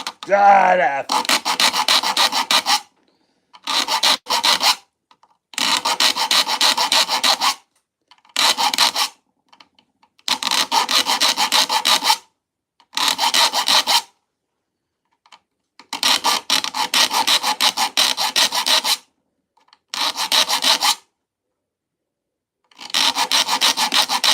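A file rasps across the teeth of a handsaw being sharpened, in about a dozen steady bursts of back-and-forth strokes, each a second or two long, with brief silent gaps between them, close and loud.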